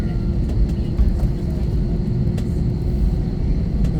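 Philippine Airlines passenger jet holding before takeoff at Taoyuan International Airport, heard from inside the cabin as a steady low engine rumble and hum with a faint high whine, continuous and fairly loud throughout.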